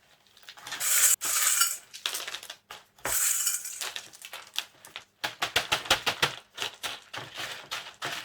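Leca clay pebbles and charcoal are poured into a large pot while repotting a Renanthera orchid, giving close clattering rattles followed by a rapid run of sharp clinks and knocks.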